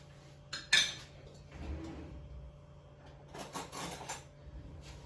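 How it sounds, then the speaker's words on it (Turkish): A metal spoon stirring sugar in a bowl, with a sharp clink on the rim followed by scattered scraping and light clattering against the bowl, close and quiet, with no talking. "Şöyle bir karıştırayım hemen şekeri."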